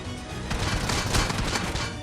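A dense burst of rapid gunfire in the BGMI battle royale game, several quick overlapping shots crackling through a loud, continuous game soundscape with no voices.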